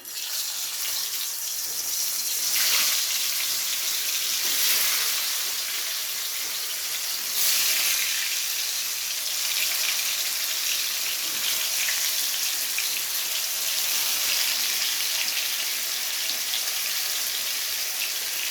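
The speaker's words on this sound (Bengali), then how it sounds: "এবার এক এক করে পটলগুলোকে দিয়ে দেবো তেলের মধ্যে।" Pointed gourd (potol) pieces frying in hot mustard oil, a steady broadband sizzle and crackle running continuously at close range with small swells, no talking.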